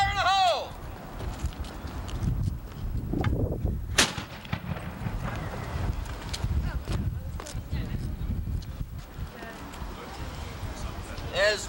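A cannon fires once with a loud, booming blast partway through, set among outdoor crowd murmur, footsteps and voices giving commands before and after.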